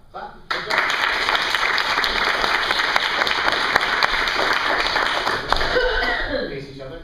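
An audience applauds at a green belt testing, a dense, steady wash of clapping that starts abruptly, holds loud for several seconds, then thins out at the end.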